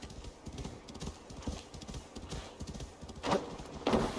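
Horse hooves clip-clop at a steady walking rhythm in the video game Assassin's Creed Valhalla, fairly close, with a couple of louder bursts near the end; no one speaks.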